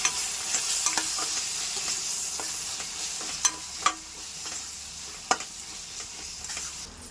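Onions sautéing in a pan with turmeric, chili powder, garam masala and green chilies, giving a steady soft sizzle with occasional sharp spoon scrapes and clinks against the pan, no talking.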